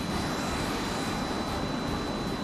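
Enemy jet aircraft in the video game H.A.W.X, a dense continuous roar of engine noise filling the whole clip at steady loudness.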